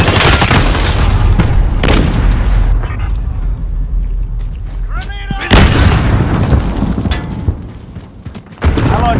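A grenade blast in Modern Warfare gameplay sits amid continuous loud gunfire and booming explosions, with a sharp burst midway through the dense, sustained battle noise.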